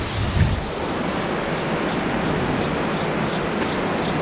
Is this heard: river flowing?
yes